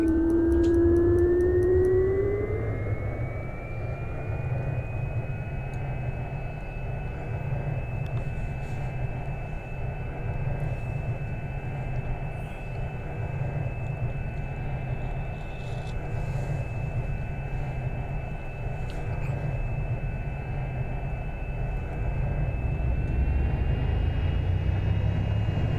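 An aircraft engine spins up in the X-Plane 11 flight simulator, a rising whine that settles into a steady droning hum with a sustained high tone, holding constant for over twenty seconds without speech.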